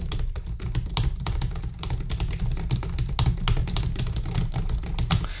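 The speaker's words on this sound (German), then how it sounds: "das sorgt dafür, dass die Tastatur sehr leise ist" Rapid, steady typing on a quiet computer keyboard with foam padding behind the keys, each keystroke a soft close click in a continuous dense patter with no talking.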